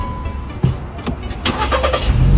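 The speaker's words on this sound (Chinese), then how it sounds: "踩刹车，挂 P 档了，打火，看见没？ 一把着" A car engine cranks briefly and catches on the first try, settling into a rising idle after a few clicks and knocks, close and fairly loud.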